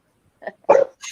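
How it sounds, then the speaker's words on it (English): A dog gives a couple of short barks at a moderate distance, a quick yip followed by a fuller bark, with no talk over it. "Dog."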